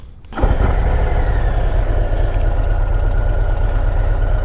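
A 2025 Harley-Davidson Road Glide CVO ST motorcycle idles as the clutch is eased out with no throttle, its low, steady engine rumble holding close and loud after a brief quiet start.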